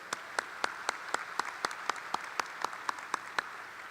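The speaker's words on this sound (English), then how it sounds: "please give a round of applause to Ms." Graduation audience at Francis Howell North High School applauding, with sharp, evenly spaced claps standing out from a soft, steady background of clapping at a moderate distance.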